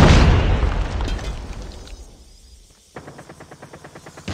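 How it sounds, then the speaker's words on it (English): A grenade blast in Call of Duty Mobile opens loud and close, its boom rolling and fading over about two seconds, and then a rapid rhythmic burst of automatic gunfire follows. "Grenade out!"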